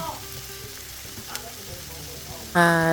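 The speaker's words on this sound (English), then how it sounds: "Just cooking through the garlic for about 2 minutes." Garlic, five to six cloves, sizzling as it cooks in a pan, a steady soft frying crackle that gives way near the end to a louder burst with a tonal ring.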